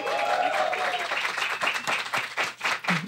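Live studio audience of a Brazilian podcast applauding and cheering, a dense burst of clapping and shouts close by that fades slightly toward the end.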